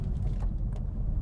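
Inside a moving Porsche 911 with stiff suspension, a steady low rumble of road and engine noise fills the cabin, loud and continuous, with faint higher hiss from the road surface.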